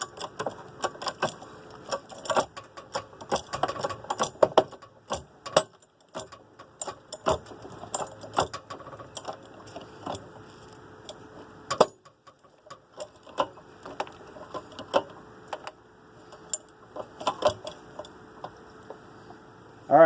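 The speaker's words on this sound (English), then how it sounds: "So next step is to jack up the vehicle. I'm going to put it on the pinch weld." A car jack being cranked up under a Dodge Journey at the pinch weld, giving irregular quiet metallic ticks and clicks in uneven bursts, close by with no talk.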